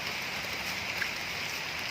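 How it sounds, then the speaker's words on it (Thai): Steady rain falls in a soft, even patter, a constant close hiss with no talking. "ก็ฝนมาตก"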